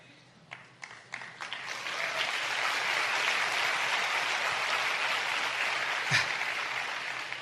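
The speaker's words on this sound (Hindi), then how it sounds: "जब आप ताली बजाते हैं ना" A few separate claps lead into steady, full applause from an audience at a motivational talk. The clapping holds at an even level for several seconds, with a single louder knock near the end.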